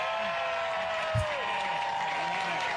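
A political rally crowd applauding a congressional primary candidate in New York City, steady dense clapping heard from within the crowd, with a brief low thump partway through.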